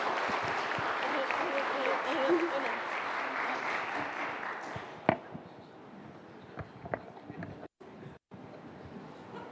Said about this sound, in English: Can everyone give a round of applause to Samsin Vichayalai School?